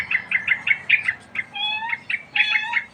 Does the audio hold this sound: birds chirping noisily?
yes